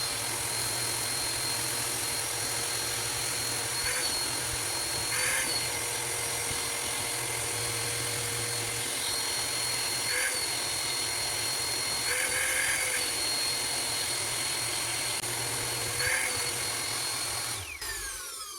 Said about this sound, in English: Now we vacuum.